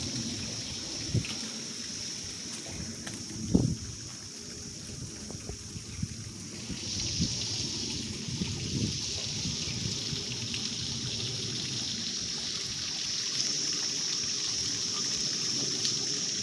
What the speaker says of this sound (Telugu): సో పైనుంచి వాటర్ ఇట్లా వచ్చి ఇలా కోనేరులో పడుతూ ఉంటాయి